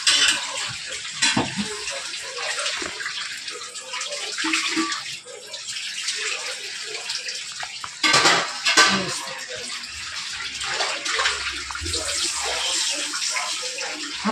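Palm fruit fritters (tal bora) slide into hot oil in a wok, making a broad, hissing, bubbling fry with clatters of a metal utensil and an occasional voice in the background.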